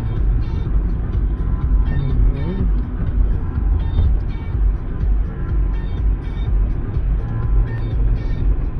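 Steady road rumble and engine drone from inside a moving car on a cold day of about six degrees in Switzerland, continuous and fairly loud throughout with no talk.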